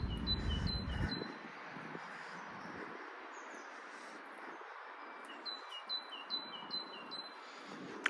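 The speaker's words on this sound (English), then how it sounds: "I hope you're picking up that bird song as well, because it's just perfect." Birds sing outdoors among flowers, with thin, high chirps scattered through the clip and clustering near the end, fairly faint over quiet ambient air after a brief burst of rustling at the start.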